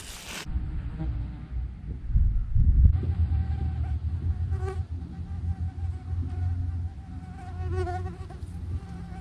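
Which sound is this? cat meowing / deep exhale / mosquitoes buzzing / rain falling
mosquitoes buzzing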